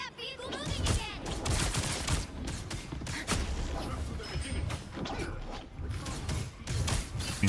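Marvel Rivals gunfire, a sustained stream of rapid shots and mechanical weapon noise through a busy game fight, with steady loudness and some voice activity mixed in.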